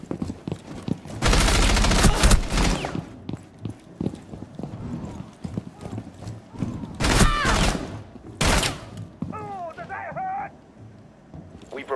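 Gunfire bursts in the video game Rainbow Six Siege, with loud shots and rattling volleys over footsteps and game voice announcements.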